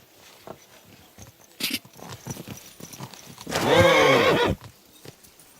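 A horse in a video game whinnies loudly in a long, quavering call, preceded by soft hoof clip-clops and a brief sharp noise, with no voices over it.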